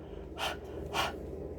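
A voice imitates panting with two breathy exhaled huffs, evenly spaced and close, standing alone without other talk.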